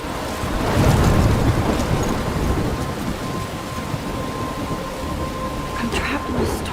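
A thunderstorm rages in the game Life is Strange, steady heavy rain pouring with deep rolling thunder swelling early and rumbling on, no voices over the downpour.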